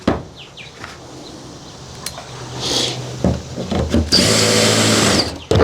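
Power drill driving a screw into a plastic Suncast 170-gallon dock box, a short loud close burst near the end, preceded by quieter handling and rustling.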